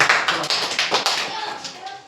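Schoolchildren clapping together in a Class 6 science lesson, a burst of rhythmic, fairly close hand claps with distinct beats, fading slightly toward the end.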